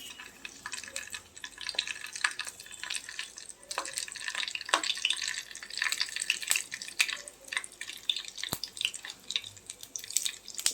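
Fenugreek and mustard seeds splutter in hot oil for a rasam, giving a busy run of small crackles and sharp pops over a soft sizzle. The sounds are close and go on continuously, with no talk.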